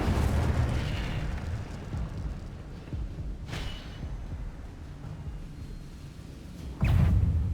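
Fiery bursts from the Incendio spell in Hogwarts Legacy, a roaring whoosh-and-crackle blaze with two sharper flaring bursts near the middle and end, loud and close with no talking.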